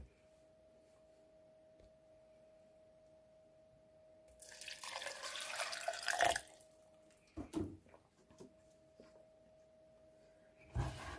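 Water poured into a speed blender over chopped apples for a smoothie, a close, splashy rush lasting about two seconds, then a few clunks and a brief knock in an otherwise quiet kitchen.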